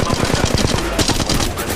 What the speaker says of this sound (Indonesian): Sedang dihujani tembakan.